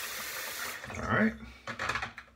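Tap water runs briefly from a faucet for under a second while the handle of a shaving brush is rinsed, followed by a few scattered knocks and handling sounds nearby.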